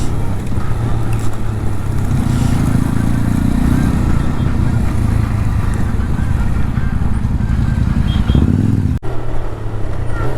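Four motorbikes cruising together on a relaxed Sunday breakfast ride, a steady close engine drone with wind rumble running throughout, briefly cut near the end.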